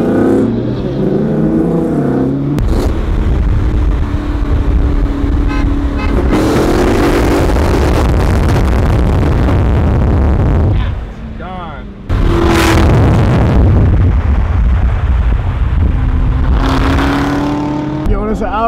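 Cars at a nighttime car meet rev hard and roar past in loud bursts, engines rising and dropping, with a brief honk and people talking amid the noise.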